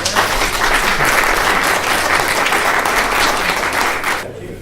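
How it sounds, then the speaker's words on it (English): An audience applauds a family being honored at a community paramedicine partnerships event, a dense, loud wash of clapping that holds steady before cutting off abruptly near the end. "How about a round of applause for the entire family?"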